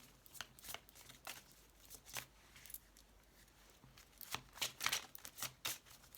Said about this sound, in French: On va commencer par tirer une petite carte de cet oracle.